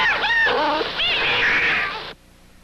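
A cat meows close by, several strained, wavering cries in quick succession followed by a longer drawn-out yowl that cuts off abruptly into quiet.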